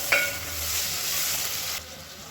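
Onions browning in oil with handfuls of mint and coriander and green chilies, cooked for kuska: a continuous close sizzle with stirring, then the sizzle drops quieter near the end.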